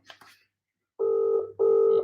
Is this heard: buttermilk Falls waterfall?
no